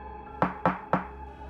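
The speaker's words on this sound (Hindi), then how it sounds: "तभी दरवाजे पर हल्की सी खटखट।" Three soft, evenly spaced knocks on a door sound close and alone in a quiet room, each a short hollow tap.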